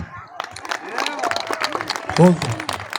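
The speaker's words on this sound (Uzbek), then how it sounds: "Bitta qarsak." A crowd claps at an outdoor Navruz holiday celebration in Qalacha, a dense patter of applause under a loud voice speaking over it, with a short cheer rising near the end.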